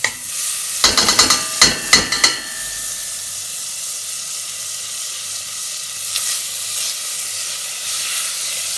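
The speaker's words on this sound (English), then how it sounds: "We're going to add just a bit of margarine to the pot." A bit of margarine hits a hot pot while cooking Bajan green peas and rice, with a few sharp spattering bursts up front settling into a steady, close sizzle that carries on alone.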